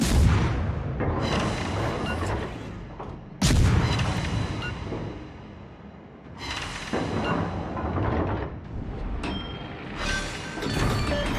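Heavy warship gun salvos in World of Warships, several deep booming blasts a few seconds apart, each followed by a long rumbling decay, loud and close with no talk.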